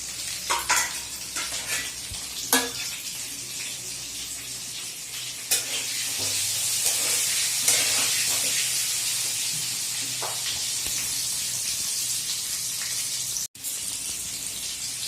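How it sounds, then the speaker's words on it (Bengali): Potatoes fry in a pan with turmeric, chilli powder and salt, giving a steady close sizzle and hiss with scattered spatter pops and occasional spoon scrapes of stirring, with no talk. "দিয়ে দেবো নুন দিয়ে আলুটাকে লাল লাল করে ভেজে নেবো"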